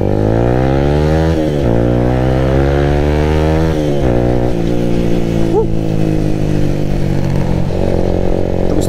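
A Yamaha R15 sport motorcycle engine drones and revs close by, pitch sliding up and down through gear changes in a continuous loud roar.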